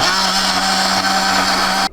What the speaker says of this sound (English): Totino's pizza, meet the Blender X.